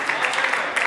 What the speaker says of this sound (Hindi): एक बार जोरदार तालियों से आवाज दें मुकेश शांडिल जी